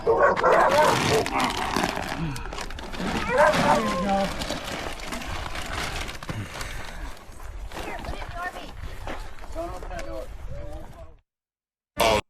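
Several dogs at an off-grid rural home in Oklahoma bark and yip excitedly at feeding time, close and overlapping, mixed with footsteps and people talking.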